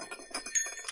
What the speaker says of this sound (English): This bell is something that is referred to as a bear bell.